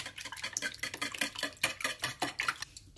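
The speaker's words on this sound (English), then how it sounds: "I've just cracked all the eggs into a large bowl, and I'm going to mix those first." Cracked eggs are whisked in a large bowl, making quick rhythmic clicking and tapping strokes at a close, quiet level, with no voices.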